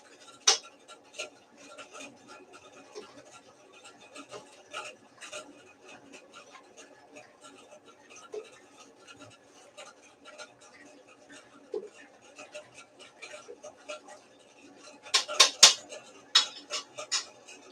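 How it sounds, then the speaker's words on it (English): Light clinking and scraping of a spoon stirring wort in a Grainfather G40 while brewing an orange pale ale, a run of small metallic taps that grows louder and busier near the end. "Give it a quick stir."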